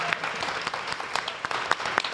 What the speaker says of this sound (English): Can we give it one more round of applause?